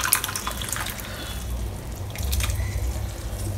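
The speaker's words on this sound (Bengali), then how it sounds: "এবার আমি এর মধ্যে দিয়ে দেবো সিদ্ধ করে রাখা ডালটা" Cooked, still slightly whole moong dal poured into a pan together with its water, a close continuous watery splash and gurgle lasting the whole clip with no voices.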